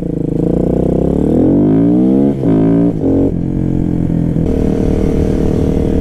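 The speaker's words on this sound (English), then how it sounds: "Yeah, that's the flyby I wanted." A 2017 KTM Duke 125 motorcycle sweeps past loud and close, its engine note climbing as it revs hard through the gears, then settling into a steady rough drone as it pulls away.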